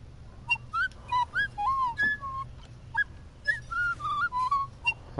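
Characters in the video game Tails of Iron talk in a string of short, bright whistled phrases, rising and falling chirps that come in quick clusters with small pauses, clear and up front with no speech.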